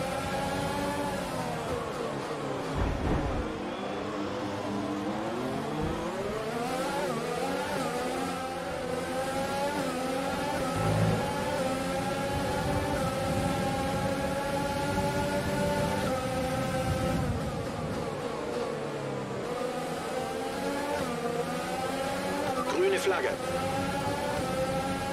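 F1 2020 Formula One race car in a Bahrain multiplayer race, engine accelerating out of the pit lane with rising and falling harmonic whine, steady and loud throughout, voices talking over the engine.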